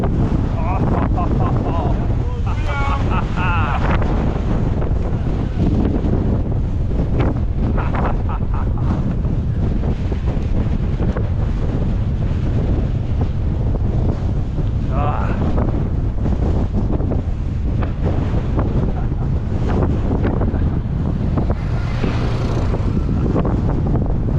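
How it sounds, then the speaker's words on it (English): Strong, fast wind buffets the microphone during a 100-mile gravel bicycle race, a continuous loud roar with gusty swells that runs the whole time, while faint exclamations come through now and then. "this is real fast wind"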